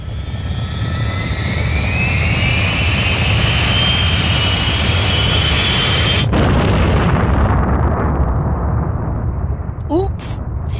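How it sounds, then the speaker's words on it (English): Main engines starting in the PaRappa the Rapper video game: a loud roar with a rising whine that swells for several seconds, then a sharp burst, after which the rumble thins and fades while a few high chirping tones sound near the end. "Please start the main engines."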